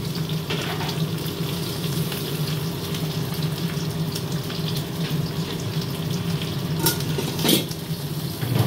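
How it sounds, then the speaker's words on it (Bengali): Pointed gourds being stirred into a thick, oil-rich spiced gravy in a hot pan, giving a continuous sizzle with scattered scrapes and clinks of the spoon against the pan, and no one speaking. "ভালোভাবে পটলগুলো আমি মিশিয়ে নিচ্ছি গ্রেভিটার সঙ্গে।"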